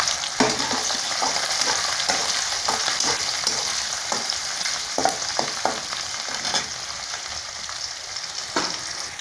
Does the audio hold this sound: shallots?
yes